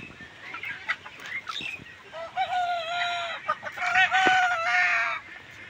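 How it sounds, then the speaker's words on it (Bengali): Chickens cluck and call repeatedly at close range on a poultry farm of about 800 birds, with a rooster-like crow rising over the flock, no talking. "এখানে মুরগি আছে মোটামুটি 800 পিস মুরগি আছে এখনো"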